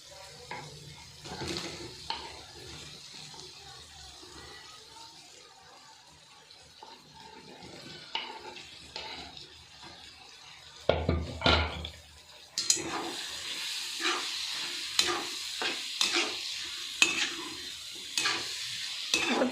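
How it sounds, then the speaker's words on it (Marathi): Boiled potatoes frying in a spiced masala with turmeric for aloo chutney, giving a soft sizzle broken by scraping and clattering stirring that grows busier and louder in the second half, with no talking. "आता 5-10 मिनिट याच्यामध्ये आपण मसाल्यामध्ये आलू चांगलं फ्राय होऊ देऊ"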